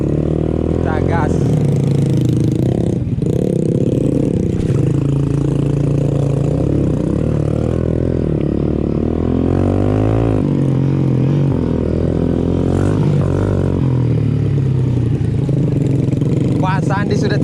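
A motorcycle on a village ride, heard as a loud, close engine drone that rises and falls with revving and acceleration and continues without a break throughout.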